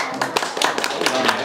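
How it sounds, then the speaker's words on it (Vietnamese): Guests clap at a Vietnamese wedding ceremony, with scattered, uneven hand claps in a loose, irregular rhythm, fairly close, with some murmured voices faintly underneath. "xin trân trọng mời tất cả vỗ tay mừng cái lễ tân hôn hôm nay ạ"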